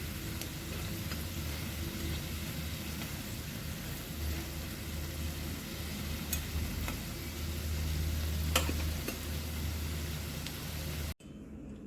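Pui (Malabar spinach) leaf pakoras fry in hot oil with a steady, close, dense sizzle that runs evenly throughout, swelling slightly before cutting off abruptly near the end.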